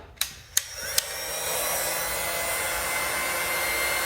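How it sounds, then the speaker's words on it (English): After three sharp clicks, a hair dryer whirs on and runs as a steady, close, broadband blowing roar while heating a motorcycle reflector. There is no speech. "I don't want to hold the heat gun or the hair dryer around it"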